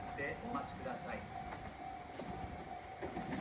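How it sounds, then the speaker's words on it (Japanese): A Tobu 8000 series train pulls into a station platform with a rolling rumble and squealing tones, while a platform announcement plays over it. "2番線に下り電車が参ります。"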